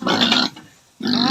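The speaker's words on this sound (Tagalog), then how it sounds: "Ah, gutom na ang baboy." A hungry pig grunts twice up close, two loud rough bursts separated by a short pause.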